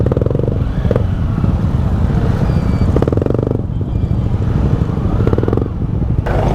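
Several motorcycles with changed exhausts, including a Royal Enfield Bullet, rumble loudly nearby at a rider reunion, a dense low engine drone with occasional revs rising and falling, no talking heard.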